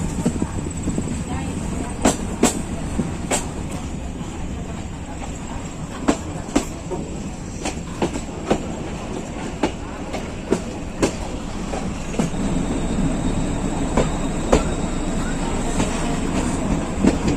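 A meter gauge passenger train running through dense forest between Bahraich and Mailani, heard from on board as a steady rumbling roar with sharp periodic clickety-clack wheel knocks over the rail joints throughout.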